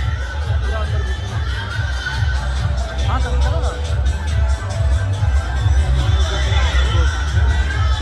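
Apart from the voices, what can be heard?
large crowd at Kali Puja fair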